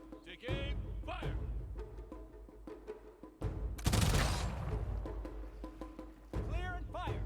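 Musket volleys crack in the strategy game Humankind: a few sharp broadband bursts, one heavy volley midway, over a dense battle bed while a voice talks through much of it.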